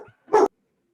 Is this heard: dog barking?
yes